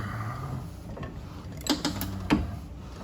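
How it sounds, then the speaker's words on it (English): A bench vise being opened wide in a workshop during a 4L60E transmission pump rebuild, a faint mechanical ratcheting with a few sharp clicks and clanks. "open up our vise here, nice and wide"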